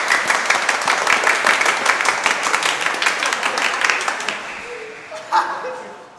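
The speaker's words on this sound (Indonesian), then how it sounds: "Kita beri tepuk tangan untuk mereka." A church congregation at a Sunday Eucharist bursts into dense applause that holds steady for about four seconds, then fades out, leaving a quiet room with a brief voice.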